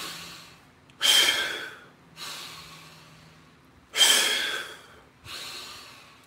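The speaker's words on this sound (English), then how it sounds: "Deep, full breathing, oxygenates the blood" Deep, full breaths during an Indian club workout: four long, loud inhale-exhale rushes spaced a few seconds apart, close and alone with no talk.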